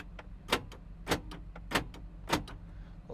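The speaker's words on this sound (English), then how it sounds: "Power door locks." Power door locks on a 1991 Chevrolet Blazer cycle four times, each a sharp, close mechanical clunk spaced about half a second apart in a quiet cabin.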